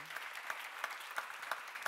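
Congregation clapping at a church seminar: a quiet room with many people clapping together in a steady, regular rhythm of about three beats per second, somewhat distant.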